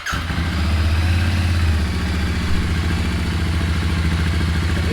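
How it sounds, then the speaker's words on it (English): A stock Royal Enfield Interceptor GT 650 with an AEW TE102 stainless megaphone exhaust idles close by, a steady throbbing twin-cylinder burble with a loud starting kick at the beginning. "So this is how it sounds in the idling."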